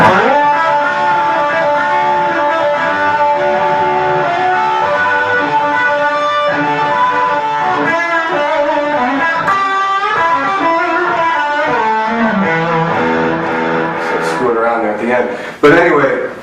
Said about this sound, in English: you can hear the difference when you can add some of those pedal tones, so to speak, underneath your improv and your soloing.